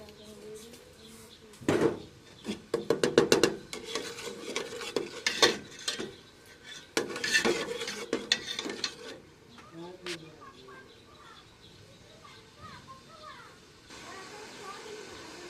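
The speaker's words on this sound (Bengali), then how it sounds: "এবং নাড়তে থাকবো বারবার।" Puli pitha mixture is stirred in a pot, with a spoon scraping in repeated bursts during the first half before the scraping thins out into quieter, sparser sounds.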